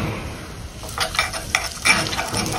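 Hot oil tempering with asafoetida, turmeric and cumin powder sizzles and crackles in a small pan, rising in short bright bursts with faint utensil stirring, close and moderately loud, no talking.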